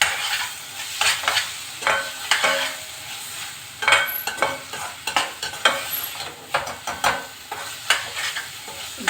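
Crushed spice paste with salt and chili powder fried and stirred in a pan, with rhythmic spoon scrapes and clinks over a soft sizzle, close and moderately loud.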